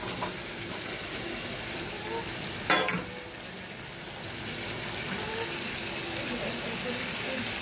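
Fried bori and vegetables are tipped into a hot pan of oil with cumin-and-spice tempering, making a continuous close sizzle, a sudden loud clatter as they drop in, and ongoing stirring.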